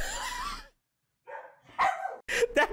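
A shaggy dog with dreadlocks-like corded coat gives a few short barks and yips, close and fairly loud, in quick bursts separated by brief silences.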